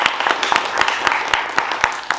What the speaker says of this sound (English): can I have a round of applause for Chris for all the hard work that he does?